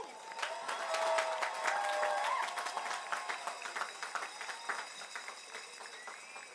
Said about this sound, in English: Shall we give our graduates a large round of applause?